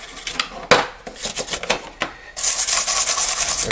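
Scrub brush scrubbing a game controller shell during cleaning: scattered scratchy strokes and taps, then a steady, louder stretch of brisk bristle scrubbing, close and without talk.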